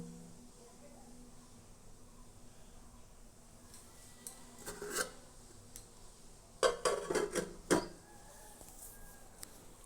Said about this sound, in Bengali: এগুলো আমি একটু ভালোভাবে নাড়িয়ে নেব